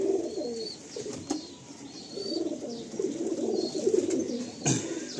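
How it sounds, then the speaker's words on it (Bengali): Domestic pigeons kept for sale, a breeding line, cooing in a loft, with soft repeated low coos layered over one another and a few faint chirps and wing sounds, steady and fairly close. "দেখুন এবারে কিছু পায়রা দেখাচ্ছে।"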